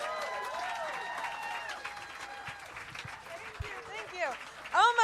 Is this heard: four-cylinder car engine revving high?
no